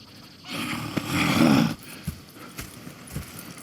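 Horses in the Red Dead Redemption video game snort and shift at close range, a loud breathy blow followed by a few soft hoof thuds and quieter rustling.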